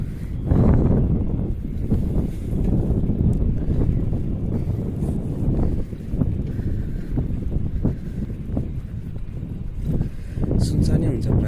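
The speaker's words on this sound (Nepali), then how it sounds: "हावा पनि लगाइरहेछ है, पुरै स्वर हान्छ" Strong wind buffets the microphone outdoors on a cold evening along a quiet road, a loud continuous rumbling roar with gusty swells that runs the whole time without any talk over it.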